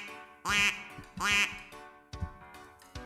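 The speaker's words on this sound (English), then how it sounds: "wait a minute, you're not a flamingo, you're a rubber ducky" A squeezed rubber ducky toy gives two loud squeaky quacks followed by a few shorter, softer squeaks, close and alone with no talk.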